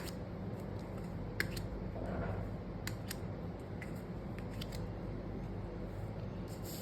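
Tarot cards are drawn from a deck, giving faint, scattered light clicks and soft papery snaps over a quiet background hiss.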